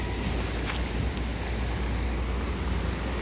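Ocean Rider boat running off Lanai after leaving Mala Ramp, Lahaina, Maui: a continuous rushing roar of hull over water and heavy wind buffeting the microphone, steady and close with no voices.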